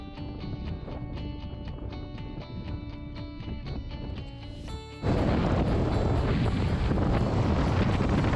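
Wind buffets the microphone aboard a ferry crossing Delaware Bay, first a hum with rhythmic ticking, then a sudden louder, continuous roar of wind and water rush, no voices heard.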